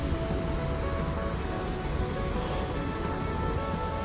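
Wallaman Falls, Australia's tallest waterfall, sends out a steady, unbroken roar of falling water, heard from a distance as a dense constant wash with no pauses and no voices over it.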